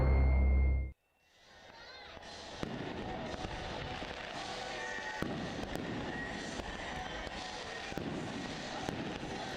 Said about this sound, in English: Full-time fireworks here in Knoxville on America Night